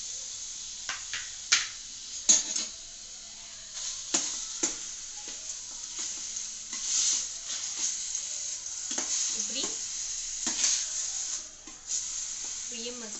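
Ripe banana and mango mashed together in a pan while cooking a sweet, giving soft irregular squishing and scraping bursts over a steady faint hiss, close up.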